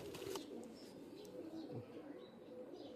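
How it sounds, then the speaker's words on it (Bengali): A Pakistani teddy pigeon cooing close by: soft, low, rolling coos repeating over a faint background hiss, with no talking. "আমি তিনটা কবুতর একটু হাতে নিয়ে দেখাই"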